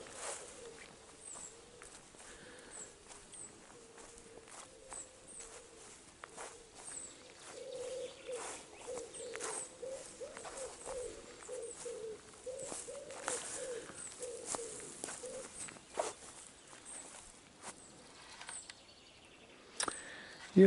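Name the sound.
pigeons cooing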